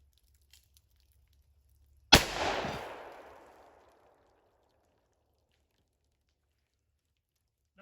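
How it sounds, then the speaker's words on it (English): A single loud .357 Magnum handgun shot firing a semi-jacketed hollow point round, one sharp crack with a reverberant tail fading over about a second and a half, then quiet. "Now the 357 Magnum."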